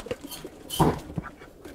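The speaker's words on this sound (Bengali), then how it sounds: "তো এইখানে আরো একটা কবুতর আছে মাশাআল্লাহ অসাধারণ সুন্দর কবুতর।" Pigeons from a paired breeding loft in Ashkona coo and stir nearby, with soft scattered calls around one louder, fuller burst in the middle.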